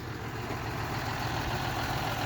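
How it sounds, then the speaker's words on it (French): A 140R tractor idles while hitched to a Carré hoe working rows of young maize, giving a steady, close, unbroken low engine drone with no voices. "Le genre de tracteur qu'on connaît un peu, un 140R, sympa ça."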